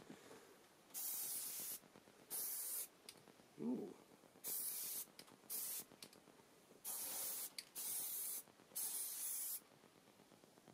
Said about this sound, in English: let's see if the spray works, shall we?